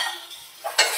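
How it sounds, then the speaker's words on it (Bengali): Spices and chopped tomato stirred in a hot pan for a pabda fish curry, a brief close scrape of the spoon over a soft sizzle, swelling into a louder stroke near the end. "এবার ভালো করে আমি নাড়াচাড়া করে নেব।"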